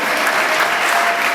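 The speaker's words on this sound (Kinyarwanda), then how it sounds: "Twongere dukomere Imana amashyi rwose ishimwe" A church congregation at an evangelism gathering applauds in a dense, continuous burst of many hands clapping together.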